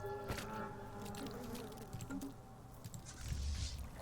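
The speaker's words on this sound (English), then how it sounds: "Fly buzzing you hear." A housefly buzzes close by in a droning, wavering hum that holds steady for a few seconds over faint background noise.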